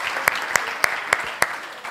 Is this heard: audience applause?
yes